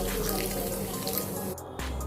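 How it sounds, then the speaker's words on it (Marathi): Half a bowl of water splashes into semolina batter for rava appe, a steady close pour lasting under two seconds before a brief pause. "अर्धी वाटी पाणी"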